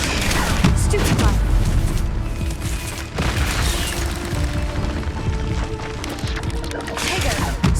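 Stupefy stun spells fired during combat in the video game Hogwarts Legacy, a dense, loud run of booming magical blasts and impacts layered with battle noise.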